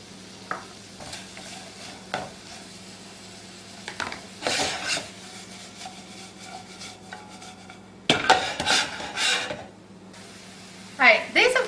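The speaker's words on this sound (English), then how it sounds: "I want to saute this till the veggies are cooked through but still crisp" Fajita vegetables seasoned with salt and pepper sauté in a pan with a quiet sizzle, broken by intermittent scraping and stirring bursts from a utensil, with a voice talking in between.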